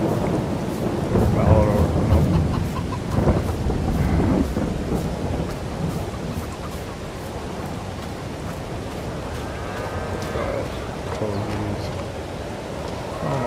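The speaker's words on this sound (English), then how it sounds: "We'll have to see how long it's going to rain." Rain and rolling thunder in the farming video game Farming Simulator 22, a steady wash of rainfall with deep rumbles swelling early on, while someone speaks faintly at points.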